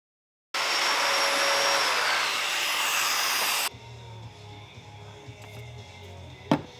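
A domino joiner cuts mortises in 3/4 inch plywood fixed shelves for bookcases, a loud steady motor whine with hissy cutting noise lasting about three seconds, then stopping abruptly and giving way to quieter shop background with a single sharp knock near the end.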